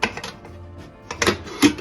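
Metallic clatter and clanks from a pressure cooker lid being fitted and closed over cooking beans, with two sharper knocks near the end.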